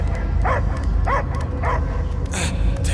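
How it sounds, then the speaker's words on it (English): A dog in the Guardians of the Galaxy video game barks repeatedly in a steady rhythm, four or five sharp yips rising over a constant low rumble of game ambience. "I hear only barking."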